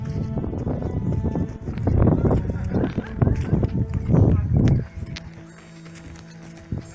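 Irregular hoof clops of a horse walking in Kazakhstan, close and fairly loud, with rustling and movement noise; the steps fade into quieter ambience near the end.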